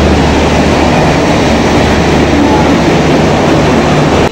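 Kamrup Express pulling into platform 8: a loud, steady, close rumble of a train rolling along the rails that holds constant before cutting off abruptly.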